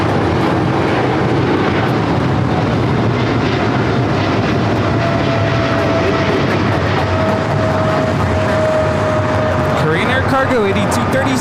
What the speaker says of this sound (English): We have a DHL 777 freighter about to fly over us.